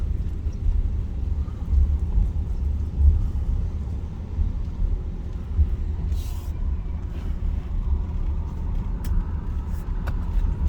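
A car rolls along Clubhouse Road in Lakeland, Florida, with a steady low engine and road rumble heard from inside, broken by a few faint clicks and knocks.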